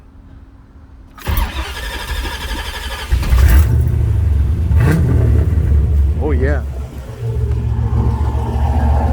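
A C4 Corvette on straight pipes with no mufflers cranks and fires into a loud, deep idle, revs briefly, then settles into a rough rumble, with a voice heard over the engine.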